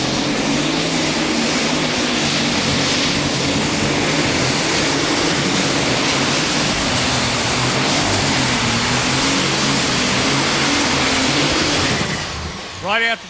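A super stock pulling tractor at the NTPA Super Nationals in Tomah, Wisconsin roars loudly and continuously during a pull, a dense high-revving engine howl that stays strong before cutting off abruptly near the end.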